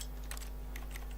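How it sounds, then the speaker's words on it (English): A computer keyboard's tilde key being tapped during a game of The Stanley Parable, a few quick, faint clicks under a steady background hum. "that's what I've been pressing. The tilde key."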